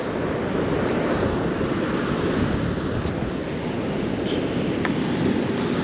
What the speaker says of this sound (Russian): Вон какая волна закручивается.